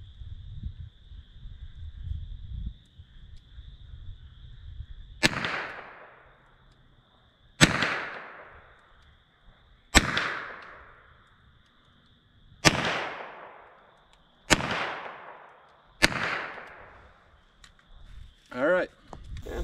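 Six sharp gunshots from a .32 Smith & Wesson revolver are fired at a range, spaced about two seconds apart. Each is loud and crisp with a short decaying tail, and a faint tone hums underneath.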